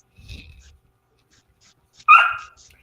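A small beagle lets out one sharp, close bark after a few faint, quieter yips and whimpers.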